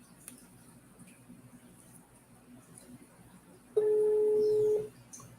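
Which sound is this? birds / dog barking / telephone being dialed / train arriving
telephone being dialed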